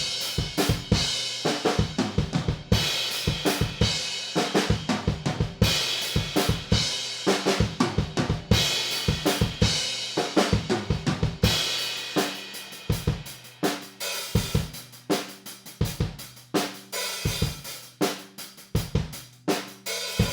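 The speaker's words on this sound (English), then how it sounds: "let's take a quick listen to the room track by itself without any processing" Unprocessed drum-kit room track from a ribbon microphone, with steady rock beats of punchy kick, snare and cymbal wash sounding roomy and warm, continuous and loud throughout.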